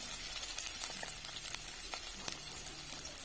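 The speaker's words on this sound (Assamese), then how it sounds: "তেলখিনি প্ৰথমে গৰম হ'বলৈ দিলোঁ তাৰ পিছত ইয়া দি দিলোঁ পিয়াজ" Chopped onions sizzle in hot oil in a pan while being stirred now and then, a steady close crackle with soft scraping ticks.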